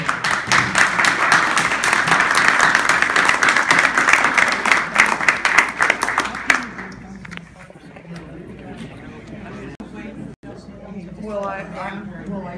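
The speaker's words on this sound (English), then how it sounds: "round of applause for our candidates" A round of applause from the audience at a candidate debate forum, steady and fairly loud for several seconds, then cutting off as someone speaks into a microphone.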